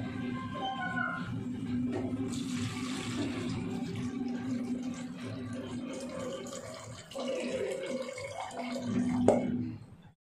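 Rice-soaking water poured into a pressure cooker in a home kitchen, a steady splashing trickle running for several seconds with a brief louder surge near the end, heard close up.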